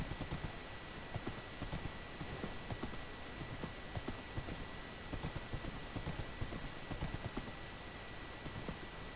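Horse hooves clip-clop in a steady, quick rhythm while walking through a Minecraft world, the game sounds moderately loud and continuous with no talk over them.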